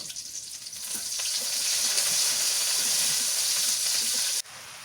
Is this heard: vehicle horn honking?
no